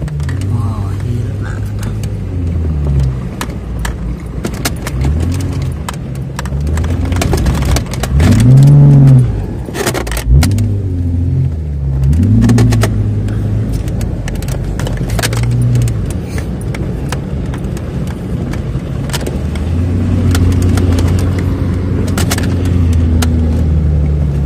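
Jeep Wrangler drives off-road in the Middle East, its engine rumbling and revving unevenly over rough ground, with people talking inside the vehicle throughout.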